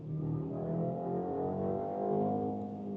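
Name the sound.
BMW X3 20 engine revving louder with mild hybrid boost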